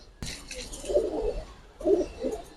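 Male Giribaz pigeons give two distinct low rolling coos close by, each lasting about half a second, after a sharp click at the start.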